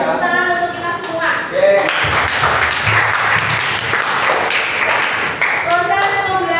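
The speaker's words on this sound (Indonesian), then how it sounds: "Tepuk tangan untuk kita semua." Students in a classroom break into applause for everyone, a dense burst of clapping in the middle, with a voice talking before and after.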